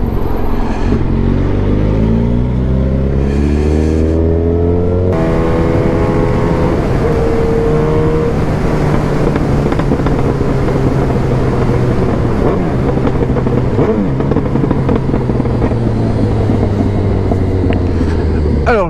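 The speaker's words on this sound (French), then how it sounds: "profiter du son que fait la moto, parce qu'elle a ses pétarades au niveau de l'échappement" A Yamaha FZ8 motorcycle engine drones loudly and steadily under heavy wind rush, its pitch shifting as it revs, with scattered sharp crackles from the exhaust.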